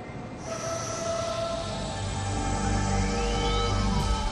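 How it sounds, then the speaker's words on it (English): A maglev train in Pakistan, driven by a synchronous long-stator linear motor, runs past with a steady, loud rushing hum and a whine that rises in pitch, with no voices. "The maglev train is propelled and braked by a synchronous long-stator linear motor."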